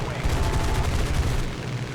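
Hispano cannons on a Spitfire firing in War Thunder, a rapid string of loud, close booming shots rolling together in a fast rhythmic burst.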